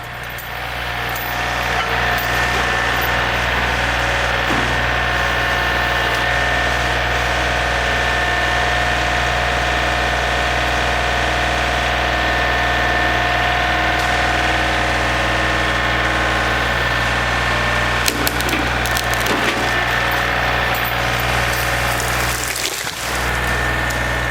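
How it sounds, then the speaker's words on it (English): A John Deere 3025e tractor engine drones continuously at a constant idle-like pitch, close and loud, pushing over a pine tree, with a brief dip and clunk near the end. "So I think a good push with the tractor and that pine should go right over."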